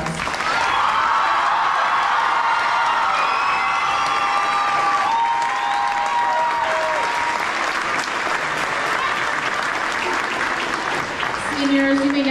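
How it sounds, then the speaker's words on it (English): A crowd at a championship award ceremony applauds and cheers for honored seniors, with dense sustained clapping, whoops and shouts filling the room loudly and continuously. "let's give them one more round of applause."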